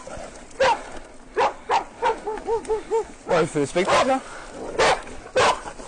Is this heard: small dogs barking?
yes